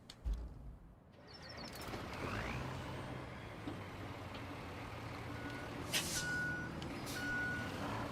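Heavy construction machinery in the Roadcraft video game, a dump truck and a dozer, rumbling steadily at close range with a low engine drone, reversing beeps and hissing air-brake bursts near the end.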